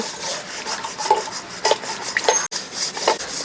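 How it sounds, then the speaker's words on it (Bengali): Fresh chhana is washed by hand in water, giving a steady wet rubbing and squelching texture with a few sharper splashy accents, close and continuous throughout, with no voices. "এখন আমি ছানাটা ভালো করে ধুয়ে নিচ্ছি"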